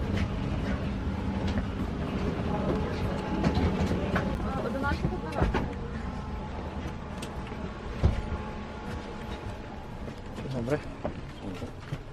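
Steady rumble and rattle inside a moving passenger train crossing into Ukraine during the war, with occasional clunks and squeaks and people talking in the background.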